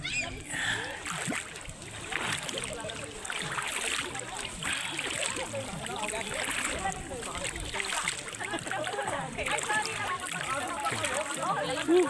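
Water splashes and churns steadily around a swimmer in a life vest being carried by a cold river current at a Norzagaray, Bulacan campsite, with voices talking over the constant rush.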